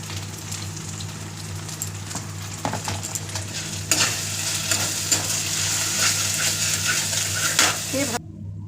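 Turmeric and chili powder sizzle and fry with ginger, cumin and garlic in hot oil, a steady, close crackling hiss broken by scraping stirs that grow busier partway through.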